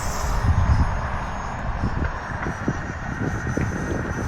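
A Freewing F9F Panther RC jet with a 64mm electric ducted fan, 4S, roars at full throttle as it climbs away, a steady loud whooshing whine with gusty wind noise.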